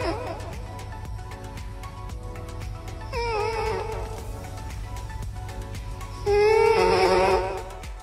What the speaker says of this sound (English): This is what a sleeping cat sounds like in a microphone.